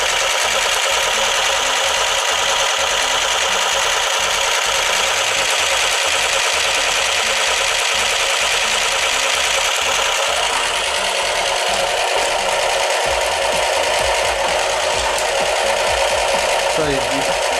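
The electric motor of a Zuobola Wasteland Mad Max RC car whirs loudly and continuously up close, a high buzzing whine with a rapid rhythmic pulse underneath that shifts in pitch partway through.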